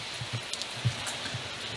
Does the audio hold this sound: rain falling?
yes